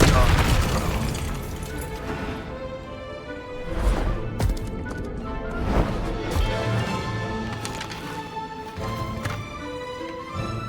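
Expelliarmus spell combat in Hogwarts Legacy, with dense bursts of booming magical impacts, crashes and layered game music throughout, and voices calling out between hits.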